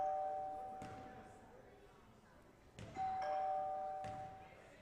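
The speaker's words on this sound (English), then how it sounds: "They're ringing the doorbell." A doorbell chimes in a basketball gym during a college men's game, with three tones ringing out at intervals over crowd murmur and an announcer's voice.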